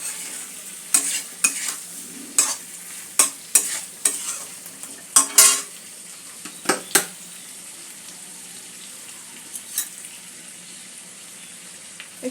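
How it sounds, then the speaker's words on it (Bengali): Spices fried with an almond and poppy seed paste for a cauliflower curry, the pan giving a steady soft sizzle broken by a dozen sharp spatula scrapes and knocks in the first seven seconds, fewer later. "সব কিছু একটু ভালো করে কষে নিতে হবে।"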